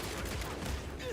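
Burst of gunfire in the Evil West video game, a rapid fusillade of shots mixed into game sound, fairly faint and lasting about a second.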